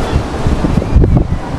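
Sea waves at Old Digha beach heard from a sea-facing hotel balcony, a loud, continuous surf roar mixed with wind buffeting the microphone, with no voices.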